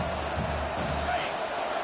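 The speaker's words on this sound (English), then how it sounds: "And the crowd really making some noise now, trying to help out this defense to get this stop near the goal line." A football stadium crowd roaring as the defense tries for a stop near the goal line against Miami, a dense, steady wash of cheering that fills the whole stretch.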